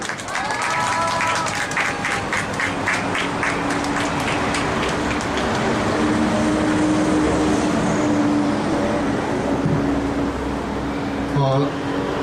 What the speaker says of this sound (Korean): 모시겠습니다. 힘찬 박수 부탁드립니다.